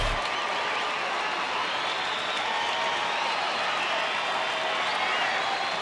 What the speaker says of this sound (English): Crowd making some noise, getting behind Derek Holland and the Rangers.